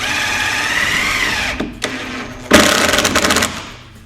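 A power drill drives a 2.5 inch screw into a patio door frame, whirring loud and close for about a second and a half, pausing briefly, then giving a second snugging burst that fades out, with no speech.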